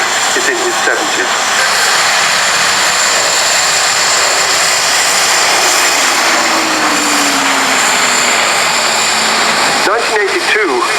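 A Hawker Hurricane, restored from a wreck and flown by Carl Schofield, roars past at an airshow, its engine a loud, steady drone that swells and shifts in pitch as it passes, with crowd noise beneath.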